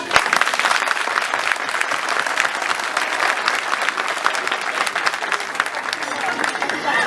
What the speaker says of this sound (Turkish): Kendinizi bir alkışlayın.